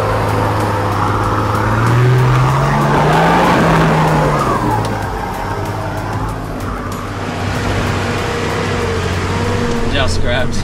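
A 4WD with both lockers engaged crawls up a very big rock step in first gear on a Victorian High Country mountain track, its engine droning and revving loudly and steadily throughout, with a pitch rise as it strains over the ledge.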